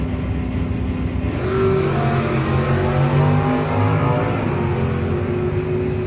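Drag race cars, including an old-school Camaro, launch at a no-box 660 shootout. Loud engines roar and rise in pitch as they pull away, with a steady, dense racing drone throughout and no talk.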